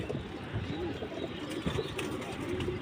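Pigeons in a home loft give soft, low cooing that runs steadily through a dense, noisy background with no clear pauses, fairly faint and at middle distance.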